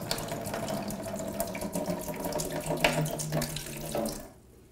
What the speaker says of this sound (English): First thing we'll do is we'll pour the product in the bucket.